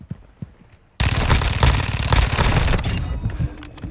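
A Call of Duty weapon firing on full auto, a loud rapid burst that starts abruptly after a second of quiet and rattles steadily for about two seconds before trailing into scattered echoing shots.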